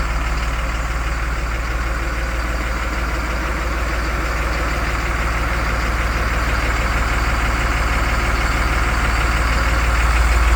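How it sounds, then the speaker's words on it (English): A 2007 Freightliner M2 Business Class 26,000 lb truck idles with a steady, loud diesel rumble and rapid knocking pulse, continuous and unchanging throughout with no voices. "It's the most reliable truck we've had in our 35 years in business."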